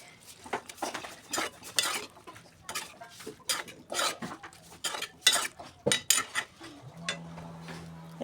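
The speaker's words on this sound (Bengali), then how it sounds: "ভালো করে নেড়ে চেড়ে দেবো" A utensil stirs salt and ground coriander and cumin in a cooking pan for a cabbage dish with fish head, giving quiet, irregular scraping clinks against the metal, close by, with no talking.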